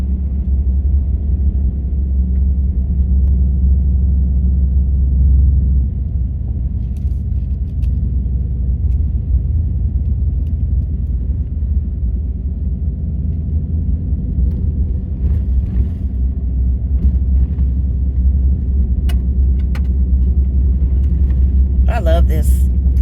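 A truck cruises along a rural backroad, its steady low engine rumble and road noise filling the whole stretch at an even level, with faint clicks and a brief rattle near the end.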